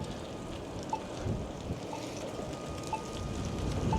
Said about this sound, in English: It is horribly windy